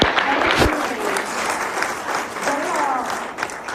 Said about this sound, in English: I'd like to have another round of applause for our staff.